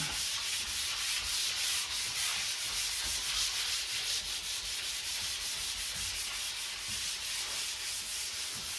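Continuous close-up sanding, a steady hissing scrape of abrasive rubbing back and forth across oiled wood.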